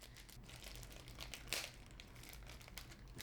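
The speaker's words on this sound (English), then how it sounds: "So you could just basically just pull them apart, the bag." A plastic tissue culture bag holding a houseplant plantlet is pulled apart by hand, giving a brief close crinkling tear near the middle over a low steady background hum.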